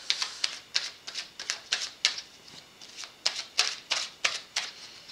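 Tarot cards being shuffled close by, a quick series of crisp riffling snaps and flicks in steady bursts, with no talk.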